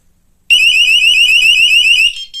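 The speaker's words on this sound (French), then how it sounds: "On active l'alarme et on va essayer la porte du salon." A Tiiwee X1 home burglar alarm, loud and shrill, starts abruptly after a moment of silence, warbling continuously for about two seconds before cutting out with a short final burst.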